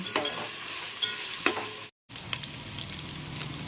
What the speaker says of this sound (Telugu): మసా అల్లం వెల్లుల్లి పేస్ట్ వేసుకోవాలి పేస్ట్ వేయించుకోవాలి